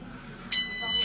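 A shrill electronic store security alarm starts abruptly and beeps loudly and steadily at a shop exit, over faint background noise.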